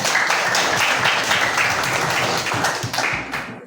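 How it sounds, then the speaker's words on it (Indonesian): Sustained applause from a group, dense steady clapping lasting throughout at a loud, even level, close by. "Tepuk tangan buat kita."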